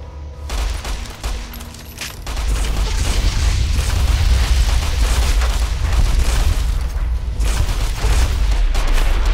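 An incinerator flamethrower weapon firing in Fallout New Vegas: a loud, sustained roaring whoosh with crackling bursts, continuous and close, swelling after a brief opening burst.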